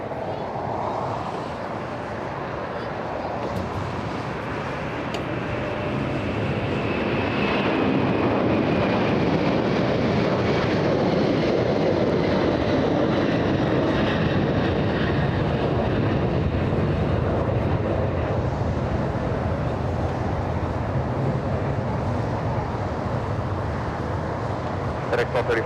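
A 31-year-old MD-11 jet airliner takes off at LAX, a broad roaring rumble that swells and holds steady for the whole stretch, loud and sustained with faint radio talk underneath.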